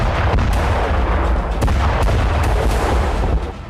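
Missile blasts strike Meron in Israel as a dense, loud run of booming impacts and crackling bursts. They overlap into a continuous rumble before it eases slightly at the end.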